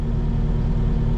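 A truck engine pulls a trailer across brushy ground toward a burn pile, giving a steady, close, low rumble that holds even throughout with no change in pace.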